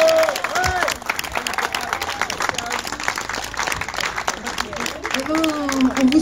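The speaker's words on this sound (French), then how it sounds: "Ils méritent vos applaudissements bien fort." A festival audience at La Grange Rock 2016 applauds volunteers at the close, with sustained dense clapping and some cheering from a large crowd throughout, under someone speaking over a microphone.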